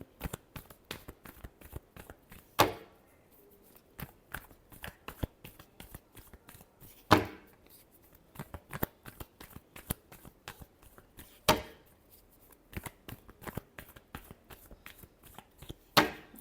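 A tarot deck is shuffled by hand in quick riffling bursts of sharp card slaps, close and crisp, repeating in uneven rhythm with a few louder snaps.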